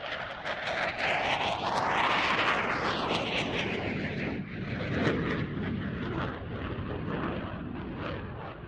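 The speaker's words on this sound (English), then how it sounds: "Watch now as Porcelain displays the CF-18's exceptional rolling capabilities." A CF-18 Hornet fighter jet performs a rolling display pass at an air show, its loud continuous roar sweeping past with a rising and falling whine, steady broadband jet noise filling the whole stretch.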